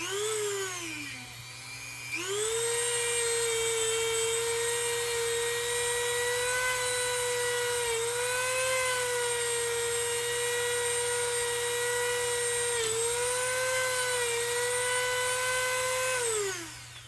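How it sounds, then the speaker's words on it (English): A wire wheel spinning on a drill as it strips powder coat from an LT250R quad hub, a steady high whine that rises in pitch after a short start, holds for over ten seconds with slight dips, then stops. "Just hitting it with the wire wheel from the kit."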